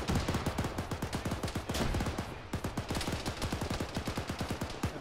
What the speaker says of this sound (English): There's too much RPG fire